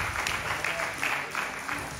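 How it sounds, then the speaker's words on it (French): A concert audience applauds, a steady patter of clapping at moderate distance, fairly quiet, with a voice faintly under it. "On peut l'applaudir bien fort"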